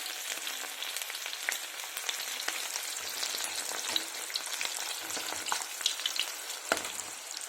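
Crushed garlic frying in hot oil for poha chivda, a close, continuous crackling sizzle with scattered pops and occasional stirring scrapes, no voices.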